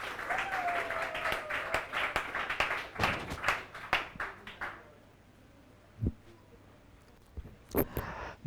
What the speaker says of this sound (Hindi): ताली बजाएगा इसके लिए